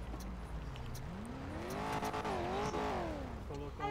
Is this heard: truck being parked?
yes